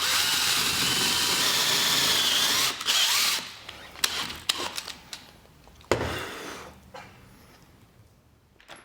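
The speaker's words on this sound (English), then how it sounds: "I got a pretty nice drill bit to do that." A drill bores angled mortises in wood, whirring loudly at first, then giving way to scattered clicks and short bursts of contact as the bit works the cut.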